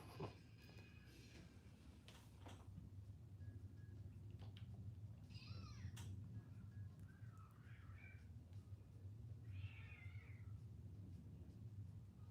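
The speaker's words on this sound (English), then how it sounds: "We got cats outside." Cats outdoors meow a few times at a distance, short faint wavering calls spread apart over a steady low background hum.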